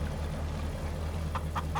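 Chickens at a coop in the farming video game Farming Simulator 25 give three quick clucks near the end, heard over a low steady ambient hum.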